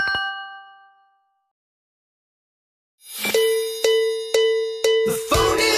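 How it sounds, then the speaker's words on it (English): A phone ringtone plays bright bell-like dings: a short chime, a pause, then a steady run of repeated ringing tones about every half second, loud and clear with no talking. "The phone is ringing. Can't you hear it?"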